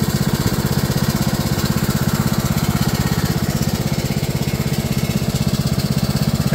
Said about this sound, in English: there's a nice idle